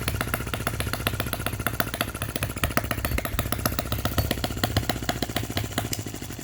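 A Lister D working miniature petrol engine by OKMO & Retrol runs on its first start, firing in a rapid, even chugging rhythm that sounds close and steady, with no talking.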